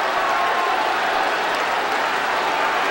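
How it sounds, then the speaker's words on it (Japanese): A baseball stadium crowd applauds a rookie's home run in his first professional at-bat, a steady wash of clapping and crowd noise that holds loud throughout. "大きな拍手が起きられます。"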